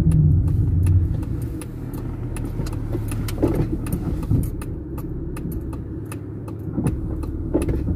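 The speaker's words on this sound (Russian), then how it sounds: "О, машин-то сколько!" Road traffic with many cars passing on a warm day, heard as a steady, fairly close wash of engine and tyre noise that continues throughout, with small clicks and bumps over it and no talk.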